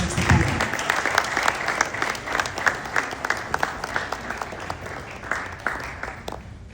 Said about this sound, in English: Please, a round of applause for him as he takes the podium.